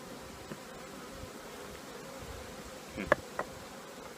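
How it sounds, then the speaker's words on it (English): Honey bees buzzing around an open hive during a late-August inspection, a steady droning hum nearby with a few louder passes and clicks of handling near the end. "Oh, I got one bee stinging me here."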